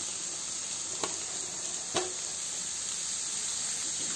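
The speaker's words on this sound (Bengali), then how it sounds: "গাজর কুচি দিয়ে আর একটু ভেজে নিব" Chopped carrots frying with onion in a pan for fried rice, a soft even sizzle with two brief stirring clicks, close by and without speech.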